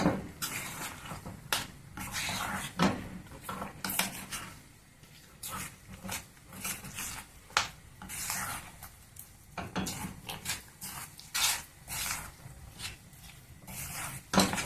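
Chalimidi dough, a sweet rice-flour dough, is mixed with ghee in a pot, giving close, irregular rubbing, scraping and soft clicking strokes of varying loudness with no voices.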